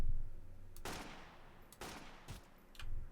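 Gunfire in the video game Sunkenland: three sharp, loud shots spaced about a second apart, each with a short echoing tail, no voices.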